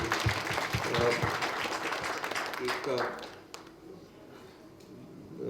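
Applause from the audience at a community panel discussion, a dense burst of clapping filling the first three seconds before fading out, with talk over it.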